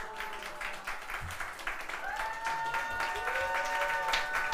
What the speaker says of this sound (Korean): 들어갈 때까지 박수.